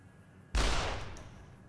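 A single loud, close gunshot from a big-bullet rifle in Fallout: New Vegas, a sharp blast with a short decaying tail and no talk over it.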